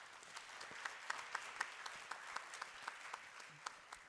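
Audience applause at a trade and industrialisation conference panel, a fairly faint, even patter of clapping with a few sharper claps standing out, no voices over it.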